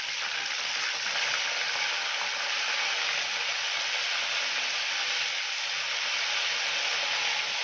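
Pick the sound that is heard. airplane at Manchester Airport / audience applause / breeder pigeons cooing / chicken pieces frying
chicken pieces frying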